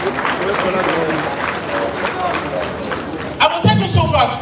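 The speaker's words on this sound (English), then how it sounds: "I would like us really to a round of applause to remember the late Arakuri Oluratimi Akeredole" An audience at a security stakeholders summit claps in tribute, a sustained ripple of applause mixed with crowd murmur and some voices, swelling louder near the end.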